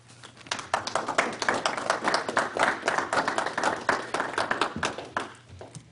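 Audience applause greeting Roxanne Smith, the Capitol tourism supervisor, before her talk on Lincoln at the Capitol for Abraham Lincoln's birthday; dense, steady clapping from a room full of people that fades slightly at the end.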